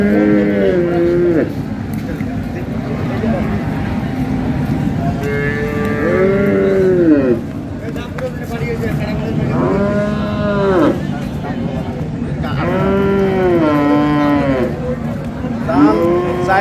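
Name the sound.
cow and calf mooing at a cattle market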